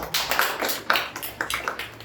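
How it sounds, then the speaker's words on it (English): Audience applause at a Toastmasters club meeting in Vellore: a short burst of scattered hand claps from a modest group, fairly close and moderately loud, with no talking. "Let us give a round of applause."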